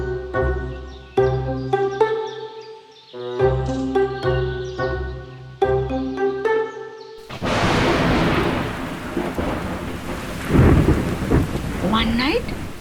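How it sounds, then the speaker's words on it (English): After a few seconds of gentle piano-like music, a loud burst of heavy rain with a rumbling thunderclap takes over, serving as a storm effect in a children's bedtime story. "One night, there was heavy rain outside."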